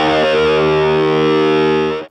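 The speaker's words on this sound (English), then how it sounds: "if you add some wah, now they have a cutting sound to them" Electric guitar octaves played through a wah pedal, opened on each note for a cutting tone; one loud sustained distorted note rings alone with a sweeping wah filter and fades out at the end.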